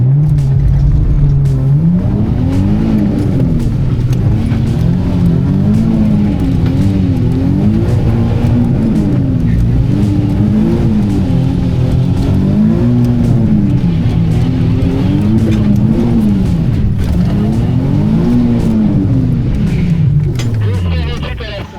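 A car accelerates hard on a track during a Shiftech driving experience. The loud, close engine climbs and drops in pitch through repeated gear changes, with voices faintly present under the roar.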